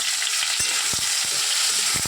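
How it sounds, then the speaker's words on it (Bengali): Potatoes, ginger and tomato fry together in hot oil for a khichuri masala, giving a steady close sizzle broken by a few sharp spatula scrapes and taps against the pan, with no talking. "এবার টমেটোটা দেবো, দিয়ে আমি একসাথে এটাকে কষিয়ে নেবো"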